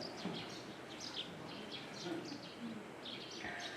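Small birds chirp and twitter repeatedly outside a Buddhist temple, fairly faint and scattered over a soft, steady outdoor background.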